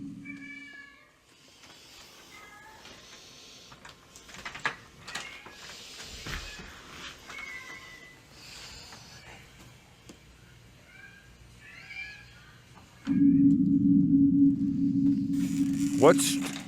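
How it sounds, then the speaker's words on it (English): Faint meows of a cat on a house roof drift in over a low background rumble, then a loud steady mechanical hum takes over near the end with a brief squeal. "It sounds like the cat."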